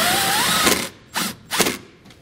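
A power drill whines as it drives self-tapping screws into the firewall of a 2013 Toyota, a steady buzz followed by a few short bursts of the driver, close up.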